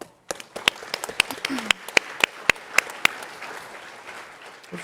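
Applause from the audience at a startup pitch competition, with sharp individual claps standing out over a sparser crowd patter that gradually thins, and a voice briefly audible underneath.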